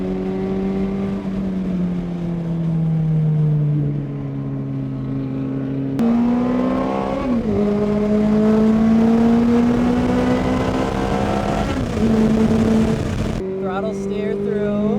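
A Ferrari F430 engine held under throttle on a track, a loud steady drone that climbs gradually in pitch, then a brief dip and recovery as the car pulls through a corner.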